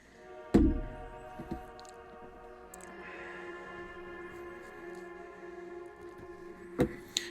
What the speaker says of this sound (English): this sound you're hearing now is a guitar played with lots of reverb and delay on it,